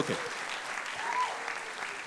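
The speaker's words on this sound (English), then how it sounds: "Can you please clap for all 4 of them, guys?" Audience at an improv comedy show clapping for four volunteer performers, a short, moderately distant burst of applause with some voices mixed in.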